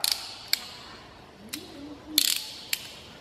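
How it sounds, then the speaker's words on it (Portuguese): A ratchet wrench from a FORTGPRO tool set gives several quick, sharp bursts of close clicking separated by short pauses, fairly quiet with no talk. "Olha que catraca."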